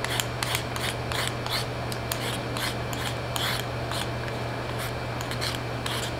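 A vegetable peeler scrapes down a carrot in quick repeated strokes, a rhythmic series of short rasping swipes close to the microphone over a steady low hum.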